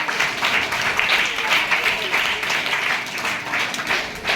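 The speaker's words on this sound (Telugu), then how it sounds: "చప్పట్లు కొట్టండి" Applause from a school audience at an Independence Day celebration at a ZPP high school in Duvvuru village, steady dense clapping throughout with a voice faintly audible underneath.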